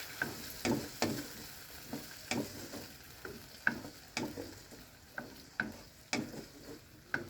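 Sardines with sponge gourd stirred in a pan, a spoon scraping in repeated, fairly regular strokes over a soft sizzle, close by and moderately quiet.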